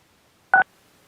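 A phone keypad gives a single short, clear touch-tone beep against near silence as a caller on a public meeting line presses keys to unmute.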